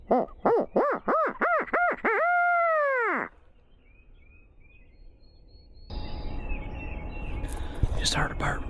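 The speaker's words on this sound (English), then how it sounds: "Just heard a bird way off that way." A bird calls in West Virginia woods during a spring turkey hunt, starting as a rapid series of loud, rising-and-falling hooting notes and then giving way to quiet outdoor ambience and rustling.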